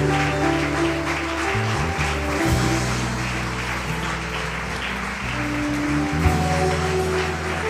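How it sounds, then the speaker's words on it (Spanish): A church congregation applauds during a Sunday morning service, a steady wash of clapping heard over sustained music that runs beneath it for the whole stretch. "Dale el mejor aplauso que tengas al Señor esta mañana."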